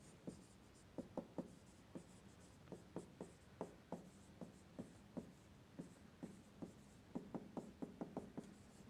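A pencil scratches on paper in short, quick strokes, close and quiet, with brief pauses between bursts of writing.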